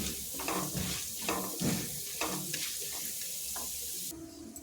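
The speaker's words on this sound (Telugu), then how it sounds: "ఇవి దోరగా వేయించుకుందాము." Urad dal and chana dal fry in a pan, a soft steady sizzle with occasional stirring scrapes, faint and close, with no talking.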